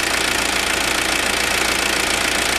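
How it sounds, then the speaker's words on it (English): A 1995 Mazda Bongo Friendee van engine runs steadily after a cylinder head installation, a close, even idle with a fine rapid ticking rhythm and no talking. "Motor sounding real well as well."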